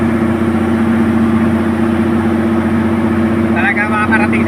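A truck engine back in running order after repairs idles with a steady, loud low rumble throughout, and brief voices rise faintly near the end.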